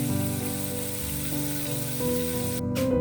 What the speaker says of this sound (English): Now heat up a pan and throw in some butter in it.